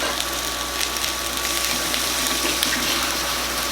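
Continuous rushing of a quarter cup of water pouring steadily over black beans, fairly loud and close, with a low hum underneath throughout.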